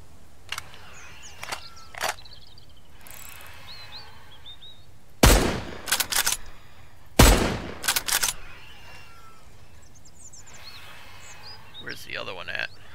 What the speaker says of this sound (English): I'm using all my bullets up.